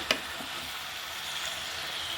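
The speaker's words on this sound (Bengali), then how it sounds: "পুঁই শাকের এই ফলটা আমি কষিয়ে নেব ওই মাছের সাথে। এইভাবে নাড়াচাড়া দিয়ে নেব।" Malabar spinach fruit fries with shrimp in a pan, a faint continuous hiss of sizzling oil opening with a single sharp tap of a stirring utensil, with no voices.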